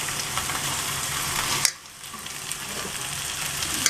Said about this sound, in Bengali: এটা ভাজা ভাজা করে নিচ্ছি পেঁয়াজটা। তারপরে আমি ঢেঁকি শাকটা এর মধ্যে ছেড়ে দেবো।